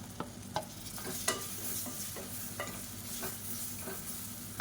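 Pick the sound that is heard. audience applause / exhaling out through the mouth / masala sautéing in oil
masala sautéing in oil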